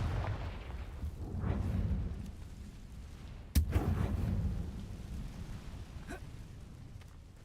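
A blasting-curse explosion from the Hogwarts Legacy video game: a sharp, loud crack that booms and rumbles low, set among ongoing rumbling game effects without voices.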